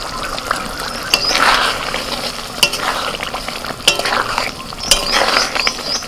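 Pieces of fried paneer tipped into sizzling masala in a pan and stirred, a steady frying hiss broken by sharp clinks and scrapes of a spatula against the pan, close and alone with no talk.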